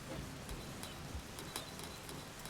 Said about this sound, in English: there is a slight amount of rain to be expected right here